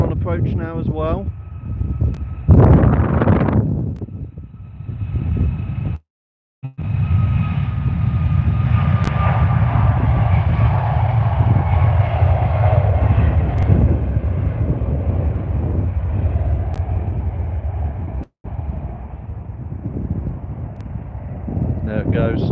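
An airliner on approach at London Stansted Airport, its engine roar swelling and holding as a broad steady rumble with wind buffeting the microphone, while a person talks over it.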